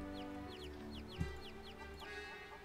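Chickens clucking in the Mabinogi video game, several short rhythmic clucks repeating in quick bursts over a low steady hum, fairly quiet, with a single soft thump near the middle.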